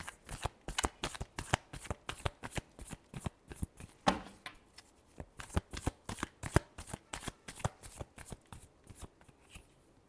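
Tarot cards are shuffled by hand in a steady run of quick, close, crisp riffling bursts, one after another, with no talking.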